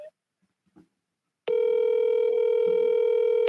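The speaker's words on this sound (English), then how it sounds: "So if it just keeps ringing, doesn't go to his voicemail, I could stay here all day" A telephone ring tone on an unanswered call, a steady electronic tone held for about two seconds, loud and alone after a few faint knocks.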